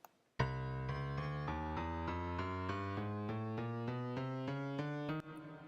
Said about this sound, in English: if I try and play that, it's going to play a piano.